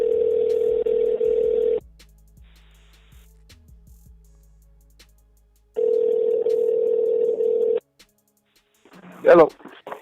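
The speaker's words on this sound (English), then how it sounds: "we are calling up Abel Sanchez right now" A telephone call goes out: a steady ringback tone sounds for nearly two seconds, falls silent, rings again, then a brief clatter as the line connects.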